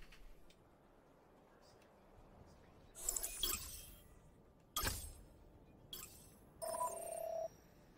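A telephone ringing during a gaming stream, with short, faint bursts of ringing spread over a quiet background, the last one a brief tonal chirp.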